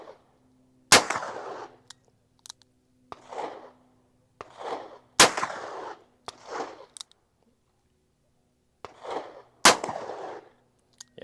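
A 1982 Colt Python revolver is fired single action at an outdoor range. Three loud, sharp shots ring out several seconds apart, with fainter clicks and rustling bursts between them.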